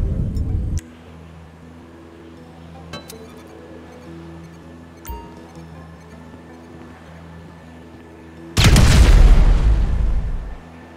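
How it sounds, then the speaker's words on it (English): A placed breaching charge detonates in GTA 5 during a Bureau Raid roof entry, a sudden loud broadband blast that rumbles on for a couple of seconds near the end, after quiet game ambience with background music. "An explosion will tend to do that."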